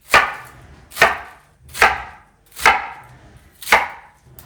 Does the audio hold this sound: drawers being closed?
no